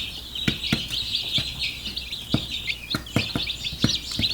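Young chicks in a small brooder chirp in high, rapid peeps, several overlapping calls, close by and fairly loud, with light knocks and rustles between them.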